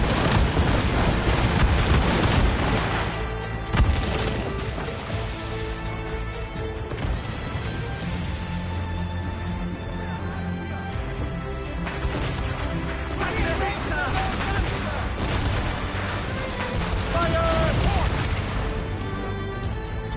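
Ship cannon volley in Assassin's Creed Rogue, booming shots over a dense, continuous naval battle mix with music and shouted voices throughout, loud and sustained with a stronger burst near the start.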